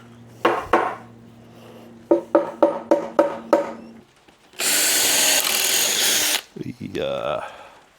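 A power drill bores through wood in several short bursts, first a single hit and then a rapid run of brief pulses, followed by a longer loud continuous whir and some clattering handling noise.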